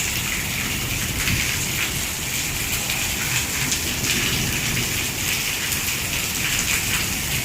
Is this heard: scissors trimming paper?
no